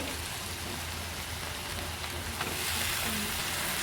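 Onion and capsicum fry in a pan for veg Manchurian, giving a dense, continuous rain-like hiss and crackle that holds steady throughout, with occasional stirring.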